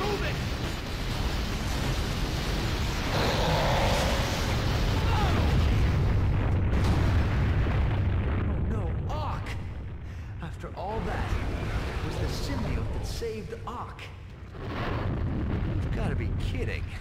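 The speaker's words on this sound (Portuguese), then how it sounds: "Muita explosão e..." Explosions in the PS1 Spider-Man game rumble in a loud, sustained roar of booms and crackling blasts, easing off and surging again, with game sounds layered over them.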